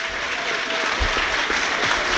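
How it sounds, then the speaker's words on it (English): Loud, steady applause from a stadium crowd at a Blackpool versus Nottingham Forest FA Cup football match, a continuous roar of clapping with low thuds and rumble, filling the whole moment without a clear break. "Now that applause is encouraging from our left-hand side"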